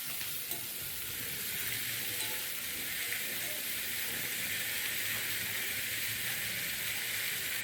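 Radish and onion sauté steadily in a hot pan for a radish and peanut stir-fry, a continuous close sizzle with faint stirring scrapes and no voices.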